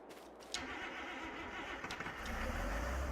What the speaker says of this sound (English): I love the sound of this tractor when it starts.